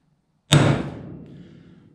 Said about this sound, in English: I'm going to take a little small hammer,